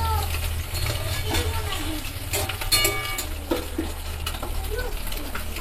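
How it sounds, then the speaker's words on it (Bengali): Fenugreek curry being stirred in a pan, with repeated scraping strokes from the bottom over a constant frying sizzle and a low background hum, close and moderately loud. "এরকম করে আমি পুরোটাকেই নিচ থেকে নেড়ে নেড়ে ওপরে তুলে দেব"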